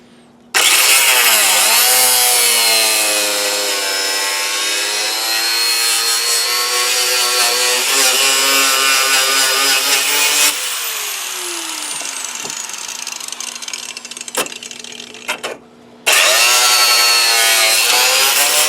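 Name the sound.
power saw cutting Jeep Grand Cherokee bumper support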